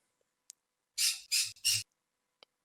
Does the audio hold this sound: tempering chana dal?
no